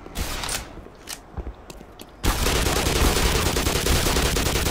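Scattered enemy gunshots in Black Mesa pop at first, then a dense, loud continuous barrage of fire takes over for the second half.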